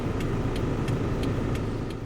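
A car engine idles and hums steadily as the car stops by the roadside in hot, dry outback country, a low continuous drone with a faint regular ticking over it and no talking.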